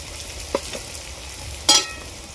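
Garlic sizzles steadily in hot oil in a pan while cooking a Bengali mutton curry, with a couple of soft stirring clinks and then a sharper splatter hiss as ginger paste goes in.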